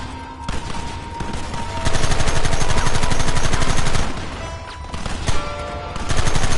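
Heavy, sustained gunfire from a Red Dead Redemption shootout, loud rapid volleys of rifle and pistol shots overlapping into a steady barrage that eases briefly before picking up again.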